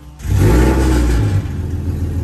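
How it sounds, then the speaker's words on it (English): A Ford Mustang engine cranks and catches, then holds a loud, steady rumbling idle with a slight rev up close. No one speaks. "it's time to start the car and see."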